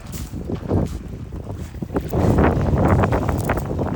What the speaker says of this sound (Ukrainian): Так, сьогодні вітряно.